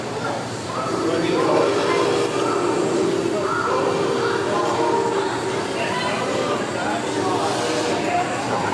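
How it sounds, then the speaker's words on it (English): A steady, loud rumble of a train rolling past at the California State Railroad Museum, continuous and close, with a hissing, mechanical roar and a voice talking over it. "Right after I said I saw no trains, here comes the train."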